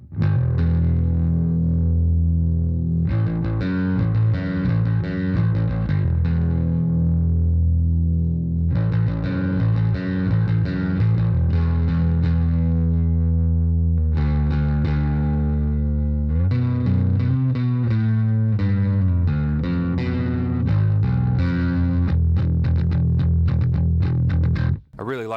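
A 1984 Peavey Foundation bass on its neck pickup with the tone knob fully up, played through the tube side of a Peavey Max bass preamp: a loud, steady run of distorted, growling bass lines and chords with no talking.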